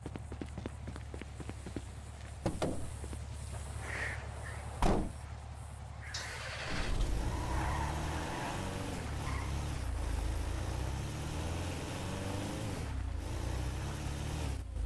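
A car in the video game GTA 5 starts driving after a few quiet seconds with scattered thumps, its engine droning and shifting pitch for the rest of the stretch, with no voices.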